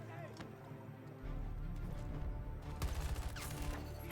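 Rapid bursts of M5A3 rifle fire in Battlefield 2042, a fast rattling string of shots growing louder in the second half over game noise, with a voice talking over it.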